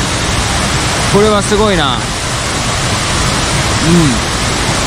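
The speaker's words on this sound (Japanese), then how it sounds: "ここがよくあの写真とかで見るクアンシの滝ですね。" Kuang Si Falls near Luang Prabang, Laos, a turquoise waterfall dropping in gentle tiers, gives a steady broad roar of falling water, and people speak briefly over it.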